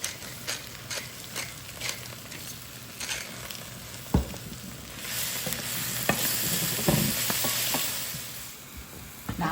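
Spinach and smoked sausage sizzle steadily in a frying pan while a utensil stirs and scrapes at intervals, close up, with the frying growing a little louder midway and no voices.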